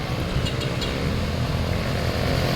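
A motorcycle speeding along a rural road, heard as a loud, steady engine roar with wind noise, close by and continuous, with no talking.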